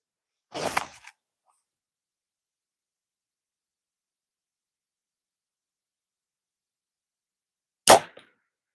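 Two sharp, loud compound bow shots at a 62-pound draw weight, each a sudden snap and twang with a short rattle, separated by a long silent gap.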